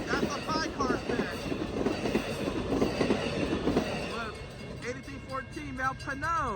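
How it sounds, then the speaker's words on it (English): A five-car Amtrak Capital Corridor train led by a Siemens SC44 Charger rolls past 105th Ave in Oakland, bound for San Jose, with a loud rumble, rail clatter and rising wheel squeals near the end. "There go that train, folks. That train is going to San Jose."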